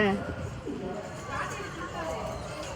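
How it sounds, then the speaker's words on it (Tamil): Pigeons at a bird park coo in soft low calls near the start, mixed with other bird chatter and people talking in the background throughout. "இந்த புறா போட்டாரு"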